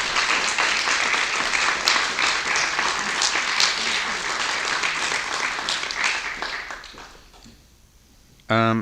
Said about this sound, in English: So let's have a round of applause for Elizabeth Epps and Katie March.